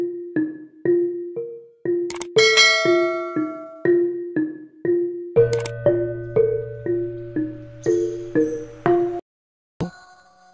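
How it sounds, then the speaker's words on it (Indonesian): A bright notification bell sound effect chimes in repeated short dings, with quick bell tones ringing out over a rhythmic pattern that pauses briefly near the end. "nyalakan juga lonceng notifikasinya agar tidak ketinggalan cerita-cerita baru dari channel ini"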